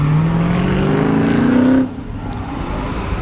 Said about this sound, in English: And there's the jump car.